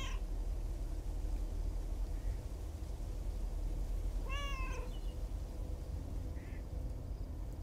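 Cats meow in the video game Post Delivery, with one clear rising and falling meow midway and fainter short calls near the start and end, all over a steady loud background hum.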